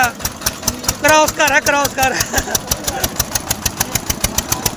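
Close by, the 60-horsepower engine of a 4x4 vehicle thuds in quick, evenly spaced pulses, with a voice briefly speaking over the rhythmic knocking early on.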